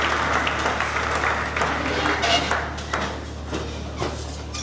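Church congregation applauding, a dense continuous wash of clapping from a crowd in a reverberant hall, fairly loud and steady, slowly thinning toward the end, with voices mixed in.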